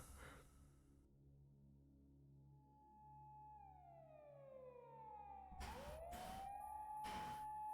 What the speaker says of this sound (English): I could faintly hear police car sirens in the distance.